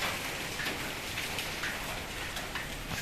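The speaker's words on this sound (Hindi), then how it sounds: "ओले ओले गिर रहे हैं।" Dense, constant pattering of hailstones drumming on a car roof during a night hailstorm in Jammu, loud and close, with no voices.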